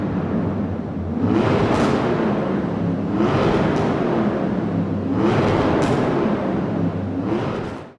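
A 2013 Formula Drift number 777 Chevrolet Corvette in Forza Horizon 5 revs in loud, repeated surges, its engine swelling and falling back about four times over a steady rumble.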